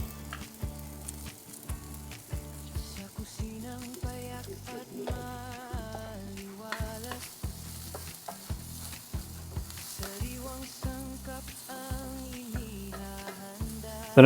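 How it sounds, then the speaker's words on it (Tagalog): Fish in coconut milk being stirred in a hot pan for ginataang tilapia, with steady sizzling and bubbling under repeated rhythmic clinks of a utensil against the pan, close and fairly loud, with no talking. "Haluin lang natin."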